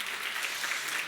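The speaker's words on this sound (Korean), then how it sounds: "이렇게 박수 한번 부탁합니다." Steady applause from a church congregation during a sermon, a dense, even patter of many hands clapping together, held at a constant level for the whole moment with no voices over it.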